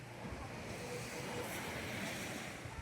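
Sea waves wash onto the shore at a beach in San Juan, La Union, a soft, continuous surf wash mixed with wind noise, quiet and without clear individual breaks.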